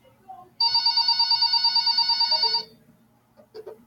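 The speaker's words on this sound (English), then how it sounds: "the phone on the counter rang" A counter telephone rings once in a long warbling electronic burst of about two seconds, close and loud in a quiet room, followed by a faint clatter.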